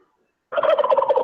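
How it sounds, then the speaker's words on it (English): Several turkeys gobble in a loud, continuous burst of rapid warbling calls that starts abruptly after a moment of silence, close by. "That's the turkeys."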